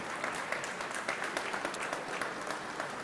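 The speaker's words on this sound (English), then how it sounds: "give yourself a round of applause" A crowd applauding steadily, dense clapping that holds at an even level throughout, fairly close and with no speech over it.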